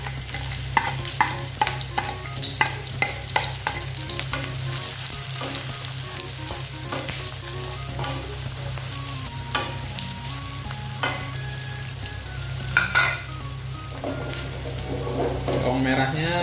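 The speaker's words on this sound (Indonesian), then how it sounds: "Bawang merahnya sama bawang putih, hati-hati jangan sampai gosong." Shallots and garlic frying in hot oil, a steady close sizzle with frequent stirring scrapes and utensil clicks under a constant low hum.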